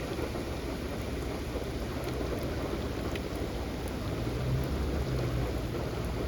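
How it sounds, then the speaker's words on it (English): Heavy rain falls onto harbor water, a constant dense hiss and patter that fills the whole stretch evenly, with a faint low rumble underneath and no talking. "Raining pretty good right now."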